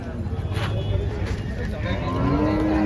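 Holstein Friesian cows mooing and lowing at the Chalisgaon cattle market, a busy outdoor crowd with people talking and general market bustle all around.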